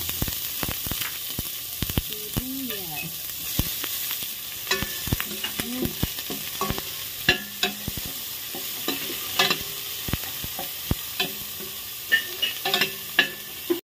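Onions frying in a pan as the base for chicken soup give a close, continuous sizzle broken by scattered clicks and scrapes of stirring, with no voices.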